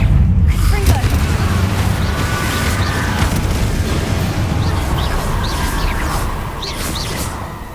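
Confringo explosion spell fired in the Hogwarts Legacy video game during a fight with inferi: a loud, sustained booming blast with rumbling debris, trailing off slowly, with game voices faintly underneath.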